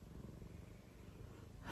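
Pet cat Nala purring close up, a soft, low, steady rumble with gentle breathy pulses, faint and intimate, with a brief rustle at the very end.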